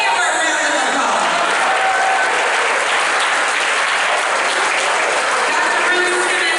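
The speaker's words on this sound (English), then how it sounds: "please give her a round of applause" Sustained loud applause from a large crowd at a Texas Southern–Prairie View A&M luncheon hosted by a touchdown club, dense and steady throughout with some cheering mixed in.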